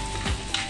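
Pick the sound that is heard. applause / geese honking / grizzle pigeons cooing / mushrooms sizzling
mushrooms sizzling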